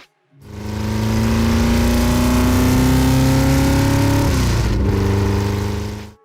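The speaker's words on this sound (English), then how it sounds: "The Ford 427 FE V8 engine is considered a big block engine with a displacement of nearly 7 litres." A Ford 427 FE big-block V8 of nearly 7 litres in a muscle car, revving up hard from idle into a loud sustained roar with rising pitch, then dropping back as the throttle is released, close and alone.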